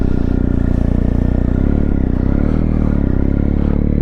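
BMW R1250 GS Adventure motorcycle pulling away on a wet road, a loud, close, steady boxer engine rumble with mechanical clatter and slight rising revs throughout.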